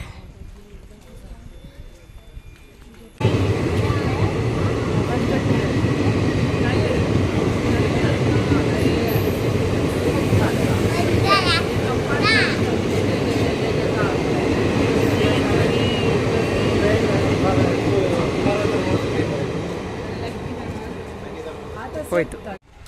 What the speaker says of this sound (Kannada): ನೋಡಿ ಇದು ಉಪ್ಪಳದ ರೈಲ್ವೆ ಸ್ಟೇಷನ್ ಈ ತರ ಇದೆ